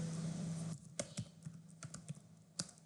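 Someone typing code on a computer keyboard: a steady run of light, close key clicks at an uneven pace, heard alone after a brief hum at the start.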